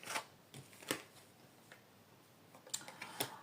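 Tarot cards are shuffled and drawn, giving quiet, close snaps and riffling flicks spaced irregularly across a faint background.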